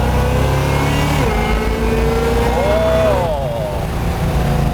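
A Chevy Nova's engine revs up under acceleration with an automatic transmission, the pitch climbing, dropping at a gear shift and rising again, loud and continuous from inside the car.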